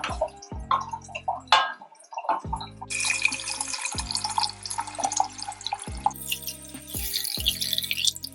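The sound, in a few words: water poured into a borscht pot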